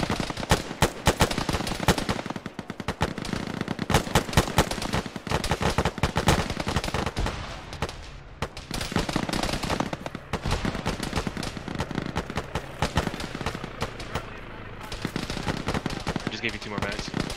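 Rapid gunfire in an Arma ShackTac squad battle, close sharp shots in irregular bursts and volleys with brief lulls, rattling throughout while players talk over it.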